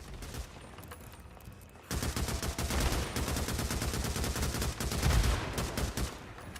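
Rapid rifle fire in the zombie-survival game Days Gone, loose tracer rounds spraying from a non-sniper gun: a dense, close, loud stream of shots that starts abruptly after a quiet opening and keeps hammering steadily to the end.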